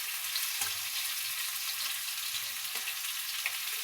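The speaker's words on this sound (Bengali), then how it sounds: "এখানে রূপসাদা মাছ আর পার্শে মাছ ভেজে নেব।" Rupsha and Parshe fish fry in hot oil with a steady, dense sizzle and crackle throughout, broken by a few soft stirring knocks, heard close and with no talking.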